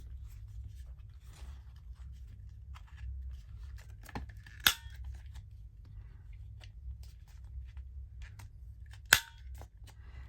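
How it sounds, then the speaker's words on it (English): Scissors snip through a thick paper bookmark, two sharp, distinct cuts a few seconds apart, close against a quiet low hum. "So we'll snip that. It's very thick."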